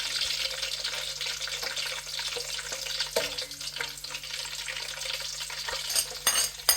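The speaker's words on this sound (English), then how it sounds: "Waiting for the onion to brown up and the curry leaves." Onion, bay leaves and star anise frying in oil for a home chicken curry: a steady close sizzle with brief clinks and stirring scrapes, and a faint tap-like rush of water partway through.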